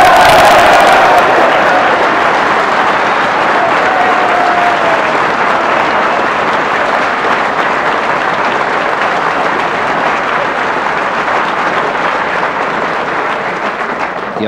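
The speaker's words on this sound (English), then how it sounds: "The applause tells its own story" Sustained applause from a snooker match audience fills the room, loud and continuous, easing only slightly toward the end.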